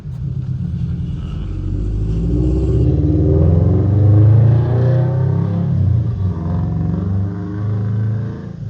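A Nissan Sentra SE-R engine revs loudly up close, a steady low rumble with rising throttle that carries on and fades a little as the car pulls away, with no talk over it.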